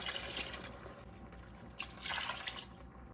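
Water is poured into a pot of lentil stew made with red curry paste, a steady splashing stream that swells in two bursts.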